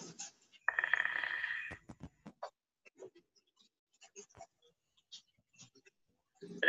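A short electronic notification chime from a live-stream app sounds near the start and rings for about a second, clear and close, followed by faint clicks and small handling noises in a quiet room.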